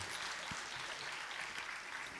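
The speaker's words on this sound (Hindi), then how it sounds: "तालियां तो बजाओ हमारे म्यूजिशियंस के लिए।" Concert audience applauding the musicians at a live show in the UK, a dense, even wash of clapping from many hands, fairly faint and distant, with no break across the short stretch.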